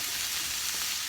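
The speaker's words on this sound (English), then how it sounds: "And we fry them till golden brown" Boiled eggs frying in hot oil for egg curry, a dense steady sizzle filling the short moment without any voices.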